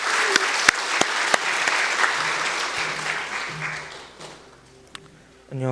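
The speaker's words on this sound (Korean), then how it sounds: "네, 우리 박수 합시다." Congregation at a Sunday evening worship service in a church claps together: a few sharp early claps swell into dense applause that holds, then tapers off before a final burst.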